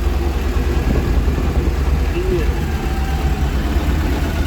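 A tractor engine rumbles low and steadily throughout, a continuous mechanical drone with a faint higher whine above it and no clear speech.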